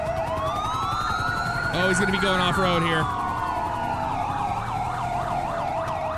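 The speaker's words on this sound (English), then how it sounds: "Let me turn off my siren." A police car siren in the video game GTA 5 wails continuously in a rising and falling pattern, loud and close, while someone talks briefly over it.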